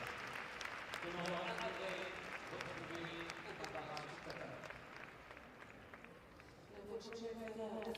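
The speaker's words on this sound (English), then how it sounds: "Still getting a huge applause." Spectators applaud at a pony show jumping Grand Prix, a fairly distant, sustained patter of clapping heard under a commentator's voice throughout.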